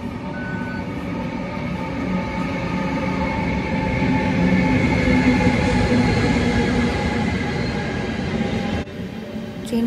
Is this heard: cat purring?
no